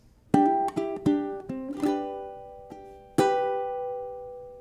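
Close ukulele phrase from a song of picked notes and a quick hammer-on, finishing with a bright strummed chord left ringing; played alone without speech.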